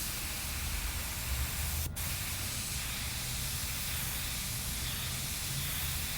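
An airbrush sprays paint through a stencil with a steady, close, unbroken hiss, broken only by one brief faint click.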